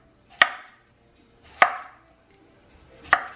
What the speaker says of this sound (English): So I slice them thinly